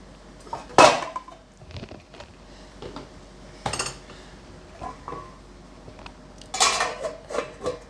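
A metal lid set onto a pot of Nellore-style fish curry gives a few sharp clanks and clinks, with two louder knocks a few seconds apart amid quieter kitchen rattles.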